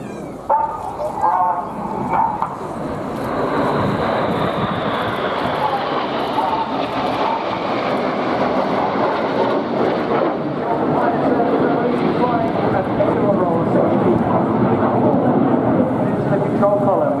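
RAF Red Arrows jets performing a flying display at Eastbourne Airborne 2016, the synchro pair pulling up at high speed; a loud, sustained, broad jet roar fills the whole stretch while a commentator talks over it.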